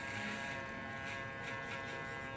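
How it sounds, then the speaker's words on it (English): An electric shaver in a barbershop, used to sharpen a haircut line during a burst fade, giving a close, steady buzzing hum throughout with slight pulsing as it moves, with no talk. "I'll get the shaver just to give it like a sharper look and cleaner look"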